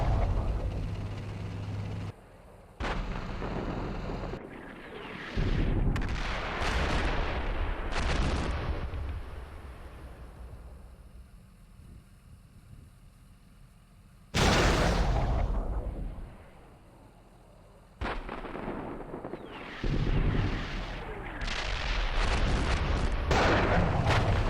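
Heavy incoming gunfire and artillery in the tank simulator Steel Beasts Pro, loud booming blasts and sustained rumbling barrages that cut in and out abruptly, dense and close, with no talking.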